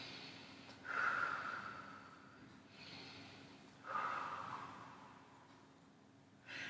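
Slow, deep breathing held through a stretch: three soft nasal breaths several seconds apart, each rising and fading, quiet and close against a faint steady background hum.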